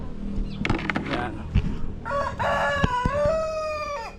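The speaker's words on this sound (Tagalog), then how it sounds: "So ito po yung mga manok natin." Backyard chickens, including brown Dekalb, Black Castro and Rhode Island hens, cluck and squawk close by, followed by a loud, drawn-out rooster crow.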